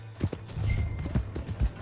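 A horse in Red Dead Redemption 2 walking, with a few uneven hoof clops and thuds close by over a low rumble, no speech.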